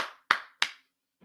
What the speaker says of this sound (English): Hand clap for that one.